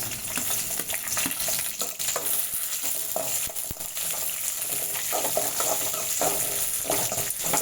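Onion, curry leaves and green chili frying with chana dal in a pan, a steady dense sizzle with occasional stirring scrapes, close and continuous without any talk.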